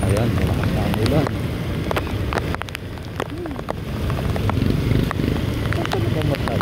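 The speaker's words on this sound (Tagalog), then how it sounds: "Ayan, malakas na ang ulan." Heavy rain drums steadily on a surface along T. Samson Road in North Caloocan, a continuous wash of noise with occasional voices talking over it.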